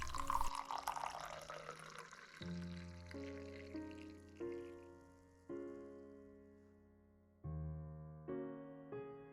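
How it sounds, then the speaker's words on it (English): Tea pours noisily into a cup at first, then gives way to a series of soft, sustained chime-like tones. "I'll pour you a cup of tea as well."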